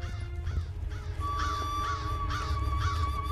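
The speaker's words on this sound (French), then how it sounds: "C'est bizarre tous ces corbeaux réunis." Several crows caw repeatedly in a steady, rhythmic series of harsh calls, fairly close and loud over a low rumbling background.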